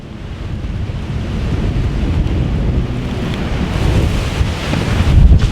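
Hurricane Delta's wind roars in a steady, loud, broadband rush with gusts buffeting the microphone, swelling slightly toward the end, with no voices.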